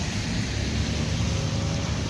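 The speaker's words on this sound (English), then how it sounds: "right now, the precipitation seems to be slowing down a bit" Steady rain falls in Montréal, a dense even hiss and patter of drops with a low rumble beneath, constant and fairly loud throughout, no voices.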